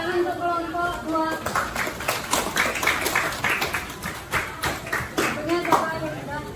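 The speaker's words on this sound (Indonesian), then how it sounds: "Tepuk tangan untuk kelompok 2" An audience in a school classroom claps for a student group, a dense patter of hand claps rising and falling over several seconds while voices speak alongside.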